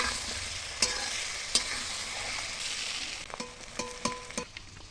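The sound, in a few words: fish frying in oil in a wok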